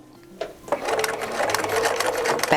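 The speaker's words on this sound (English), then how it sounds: "over to the sewing machine to sew from here to here" Sewing machine stitching a diagonal line across a tote bag, a rapid mechanical whirring chatter that starts after a brief pause and runs steadily, close and clear.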